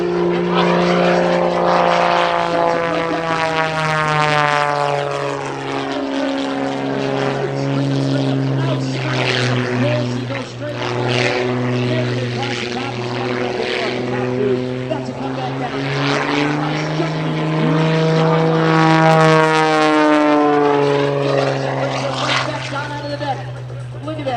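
A propeller aerobatic airplane performs at the Spirit of St Louis airshow, its engine droning loud and continuous with rising and falling pitch as it tumbles and maneuvers, while an announcer talks over it.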